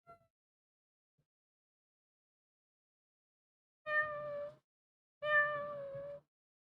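A man imitates a cat with two drawn-out, tonal meows in a row, fairly close and clear, after a long quiet stretch, with no other talk.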